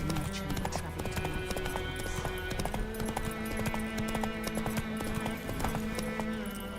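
Roach, a horse in The Witcher 3, gallops with a rapid, steady clip-clop of hooves that carries through the whole stretch, backed by game ambience and music.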